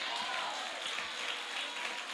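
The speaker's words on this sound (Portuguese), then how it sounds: "Você pode aplaudir a Jesus por isso?" Dense, sustained applause from a large church congregation, a steady wash of clapping with no pauses.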